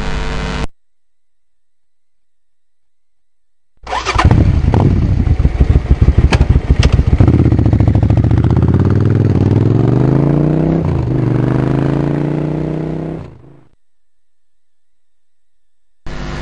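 A motorcycle engine starts and revs close by, its pitch rising as it accelerates for several seconds before the sound fades out.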